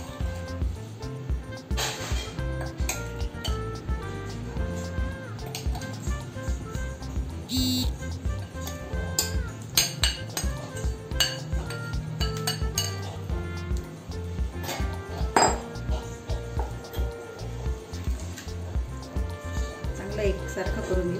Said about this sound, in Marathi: आता आपण या फोडी ज्या तयार करून ठेवल्या आहे या मसाल्यामध्ये ऍड